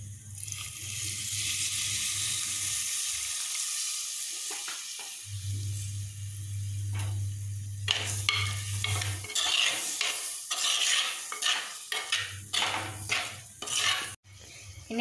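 Lemon pickle frying in a pan as vinegar is added, a crackling sizzle that comes in bursts with stirring clatter of utensil against pan and a low intermittent hum, no voices.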